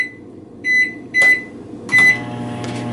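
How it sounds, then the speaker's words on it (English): Microwave oven heating bread, with three short beeps at the start and then a steady hum as the oven runs. "move over toward the microwave, where we'll put this in, and then we'll let it cook for 45 seconds"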